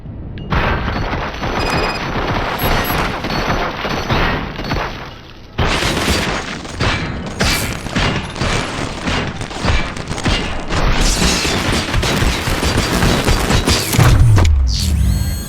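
Loud, dense gunfire in the Robocop: Rogue City video game, with rapid machine-gun bursts and booming shots layered over each other, a short lull near the middle, then heavy firing resumes with shattering impacts.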